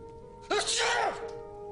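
A single sharp sneeze bursts out about halfway through, loud and close, over a steady low electrical hum.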